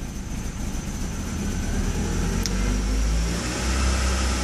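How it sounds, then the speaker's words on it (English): Honda CB7 motorcycle engine running rough with misfires from fuel contamination, a steady close-up idle and rev drone with a slight exhaust leak, no talking. "Whenever it bogs, it's misfiring."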